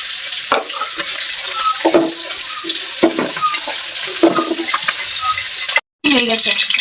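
Cooking oil is poured into a heated pan on a stove, ready for frying ash gourd fritters. A steady wet hiss runs with light clinks, and a faint voice murmurs underneath.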